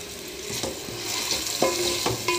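Potato egg bhurji being stirred in a frying pan, a spatula scraping and turning the food in repeated strokes over a steady low sizzle, close and fairly loud.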